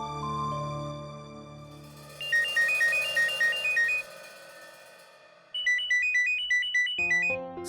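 A phone ringtone plays two bursts of a rapid warbling electronic melody, loud and close, over a soft musical background.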